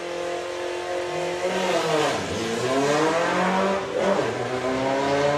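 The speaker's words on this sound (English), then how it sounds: "you can hear feathering the throttle" A Volkswagen drag racing car's engine revs loudly and up close at Santa Pod as the throttle is feathered, the pitch sweeping down and back up twice in wavering surges.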